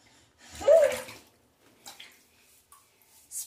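Toddler splashing water in a bath, a single close, loud slosh followed by a few smaller, fainter splashes and drips scattered through otherwise quiet moments.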